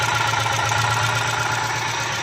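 A freshly rebuilt auto-rickshaw engine, once cracked at the crank, runs at idle close by, giving a steady pulsing rumble with a faint knock and no speech over it.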